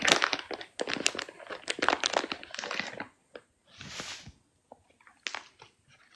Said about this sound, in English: That's the sound of him trying to fight out of a paper bag.